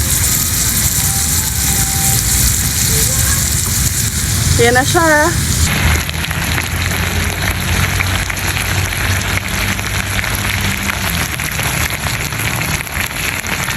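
Beef pepper lunch sizzles loudly in a hot pan, a steady broadband hiss running the whole length with a brief stir of clinks midway, while a voice speaks briefly over it.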